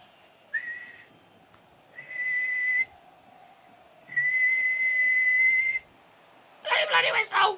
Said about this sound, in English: Whistle's going to go though.